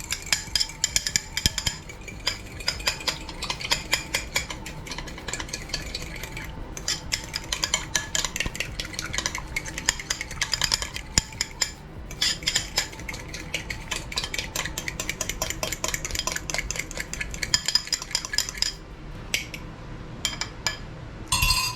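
An egg beaten briskly in a bowl with egg yellow coloring, a fast continuous clatter of utensil against the bowl that goes on without a break.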